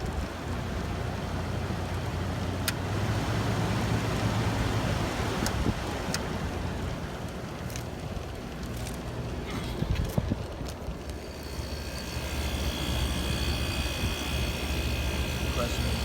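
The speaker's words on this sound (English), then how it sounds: "Compressor is nice and quiet. Pushing out some heat on the back. A little bit of a rattle." A 1984 Hotpoint (GE) 8400 BTU air conditioner runs its compressor nearby, a steady low hum and broadband whoosh with a slight rattle and a few scattered clicks throughout.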